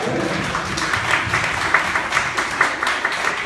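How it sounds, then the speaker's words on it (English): An audience at a rhythm talk gives itself a round of applause, a moderate, uneven patter of clapping with some sharper individual claps standing out. "Give yourself a round of applause."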